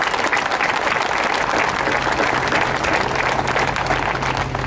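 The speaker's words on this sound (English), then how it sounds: "Let's give her a round of applause." Sustained, dense applause from a crowd at a Missouri labor rally greets a senator, steady and loud throughout with no pauses, with faint background voices mixed in.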